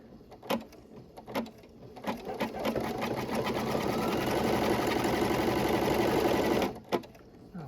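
An embroidery sewing machine stitches a handbag accessory, starting with a few spaced clicks and thumps before settling into a fast, steady, rattling run of stitching that stops sharply near the end.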